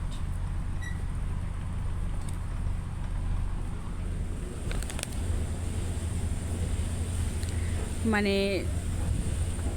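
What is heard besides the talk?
water current and breeze beside a moving launch boat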